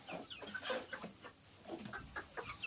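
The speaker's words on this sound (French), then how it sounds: "Donc là il y a une poule Brahma." A Brahma hen clucking close by in a poultry yard, a run of soft irregular clucks and short calls, fairly quiet.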